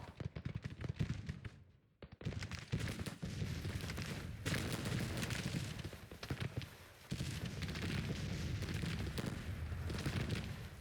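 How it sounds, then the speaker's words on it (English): Cannon and gunfire rumble through a Civil War battle in the strategy game Grand Tactician: The Civil War, with repeated booms and crackling volleys forming a dense, continuous din of mid-distance artillery. "There's bloody cannons."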